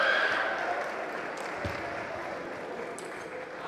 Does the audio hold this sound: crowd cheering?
yes